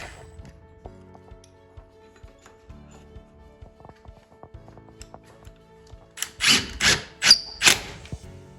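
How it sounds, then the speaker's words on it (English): An impact driver takes down an old garage door opener mounting bracket: quiet clunks and handling noises first, then four loud, rapid rattling bursts close by near the end. "he'll come back with his impact, and he's going to take that existing mounting bracket down"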